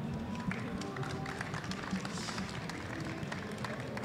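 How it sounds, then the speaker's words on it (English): Audience at the NAMM 2024 MIDI Innovation Awards applauding, a crowd of hands clapping in a dense even patter at low level, steady throughout. "A round of applause for Bruno."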